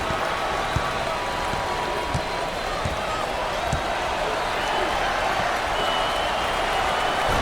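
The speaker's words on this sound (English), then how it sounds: "Listen to the crowd." A crowd at a Duke versus North Carolina basketball game inside an arena roars and applauds continuously, a dense, loud wash of cheering with occasional ball bounces and voices mixed in.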